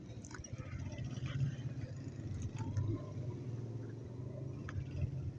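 Cars travel a road on the route from Quetta to Dera Ismail Khan, heard as a faint, distant, continuous engine and tyre rumble with small swells as vehicles pass.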